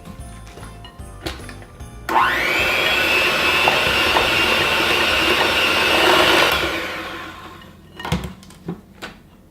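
An electric mixer whirs steadily for several seconds while mixing snowball cookie dough with added flour, starting abruptly and winding down, with kitchen clatter before and after.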